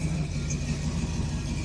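An old-school Chevrolet Chevelle with a 408 engine runs at a steady idle nearby, a loud continuous low rumble with a lumpy throb and no speech.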